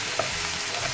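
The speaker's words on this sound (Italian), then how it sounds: "Mescoliamo un po'." A steady sizzle of mushrooms and vegetables in a hot pan, with a light scrape as a utensil stirs them, close and brief, with no talk.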